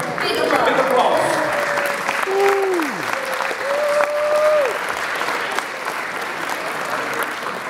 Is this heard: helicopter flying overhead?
no